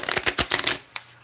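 Fortune-telling cards being shuffled in a quick riffle of papery flutters, close and clear, ending with a soft tap.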